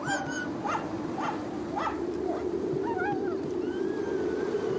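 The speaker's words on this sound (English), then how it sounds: "More than 50 dogs are to act as sled teams for the overland crossing." Sled dogs, more than 50 of them, aboard the Endurance ship. Several short barks and yelps, followed by rising, wavering whine-like howls over a steady low rumble.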